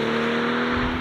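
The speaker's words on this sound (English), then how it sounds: "It is such a good sounding engine." Engine of a 2023 BMW M340i revving under acceleration, a loud, close, sustained droning tone heard from inside the cabin with no talking, brief and continuous.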